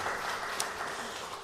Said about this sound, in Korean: 우리 박수 한번 다시 한번 보내드릴까요?